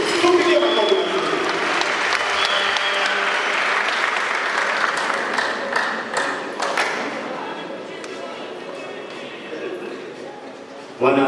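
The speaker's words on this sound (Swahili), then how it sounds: "Tumpigie makofi mazuri" A church audience claps warmly to welcome a guest named Churchill. Dense, sustained applause fills the space near and loud, with a few sharp taps and thuds, and then fades slightly before one last burst.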